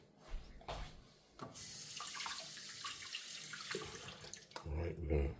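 Water running from a tap into a sink while a small item is rinsed off, a hissing splashing stream that starts and stops in short bursts and ends with louder clunks.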